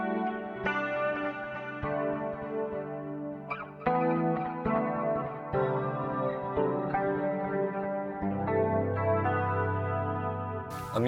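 A Les Paul electric guitar plays sustained chords and single notes through an 80s Rockman-style compressor and chorus, giving a lush, shimmering, echo-laden tone with distorted edges and a rhythmic strumming burst near the end.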